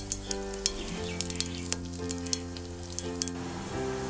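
Mustard seeds and a broken dried red chilli fry in hot oil, giving a steady close sizzle peppered with sharp crackling pops throughout.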